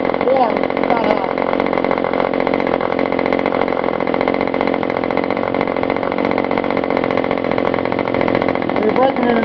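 A Webra Silverline 40 model airplane engine buzzes loud and steady at high revs during break-in, a continuous droning whine with no pause throughout.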